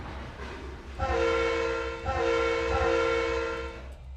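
Train in the Trainz 2022 simulator sounding two long horn blasts, one after the other with a brief break, loud and close over a low rumbling engine and track noise.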